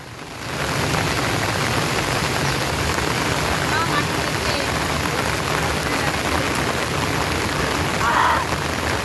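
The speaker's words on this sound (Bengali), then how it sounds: "প্রচুর পরিমাণে বৃষ্টি হচ্ছে" A downpour of heavy rain fills the air with a constant broadband hiss that swells in after the first second and holds steady, with faint voices murmuring beneath it.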